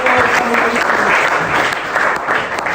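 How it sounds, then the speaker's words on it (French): A church congregation applauds loudly and continuously throughout, a dense steady wash of clapping with voices mixed faintly beneath. "Est-ce qu'on peut acclamer très fort aussi?"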